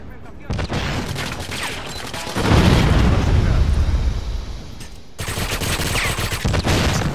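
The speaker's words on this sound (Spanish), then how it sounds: "Granada de fragmentación." A fragmentation grenade goes off in the Wii version of GoldenEye 007 during an online match, with a loud rumbling blast that swells and lingers, followed by further bursts of game noise.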